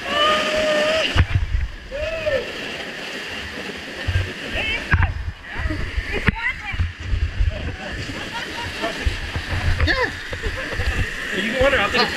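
Water pours and splashes steadily at a waterfall on a St. Lucia land and sea tour, a close, continuous rushing spray with people talking over it.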